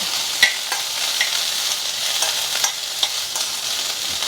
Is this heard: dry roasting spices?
yes